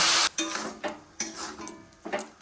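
Boiled vegetables with ginger-cumin paste, turmeric and chilli powder being stirred in a pan, giving a brief sizzle and then several scraping strokes of a spatula against the pan, close and fairly loud.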